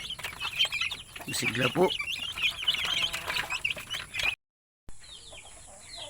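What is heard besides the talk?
native chickens clucking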